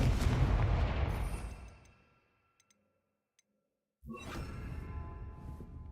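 A Confringo blasting spell from the Hogwarts Legacy video game: a loud, dense burst of fiery noise that fades over about two seconds, a few faint ticks in near silence, then a second sharp blast that rumbles on.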